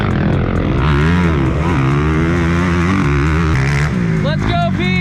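A Chinese motocross dirt bike engine runs steadily with a buzzing, slightly wavering drone, loud and close, with voices and other sounds overlapping toward the end.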